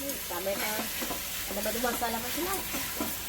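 Tomatoes cook in a pan for a spring onion sev tomato curry, a steady soft sizzle and hiss running under a person talking throughout.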